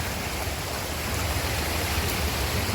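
Steady rushing water fills the scene, a continuous broadband roar of the Hua Chang waterfall nearby in a forest, with no voices.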